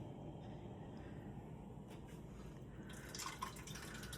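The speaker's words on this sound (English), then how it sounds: "Now we're gonna follow it up with our crushed tomatoes with basil." Crushed tomatoes with basil are poured into a big pot of Bolognese sauce, a soft wet glugging and dripping that builds near the end over a low steady background hum.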